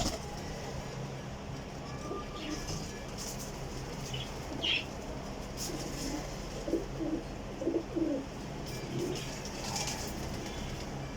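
A Salara pigeon coos softly in a few short low bursts among faint chirps from other pigeons, with brief wing flaps and a steady outdoor background hum; no talking.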